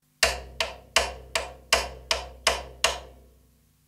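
Eight crisp, evenly spaced wooden clicks struck on the rim of a low tom ring out in a steady eighth-note pulse, each with a short decaying resonance, played alone in a quiet room.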